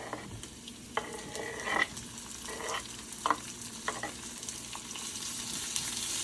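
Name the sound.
onion frying and being stirred in a pan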